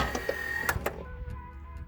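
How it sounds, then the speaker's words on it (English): A Pontiac Fiero headlight motor whirs briefly with a short mechanical hum and a few clicks and thumps, quiet and close, fading into low background noise. "Headlight motor works."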